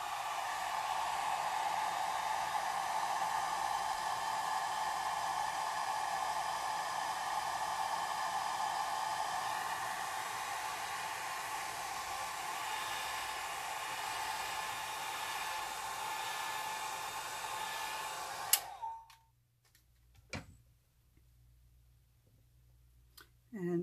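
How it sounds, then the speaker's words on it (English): A hair dryer on its low setting blows steadily onto alcohol ink artwork for about eighteen seconds, a close, even whoosh that cuts off abruptly, followed by a few faint clicks and handling sounds. "I'm going to use my hair dryer to dry it a little bit"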